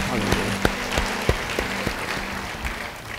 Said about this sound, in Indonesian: Beri tepuk tangan yang baik bagi Tuhan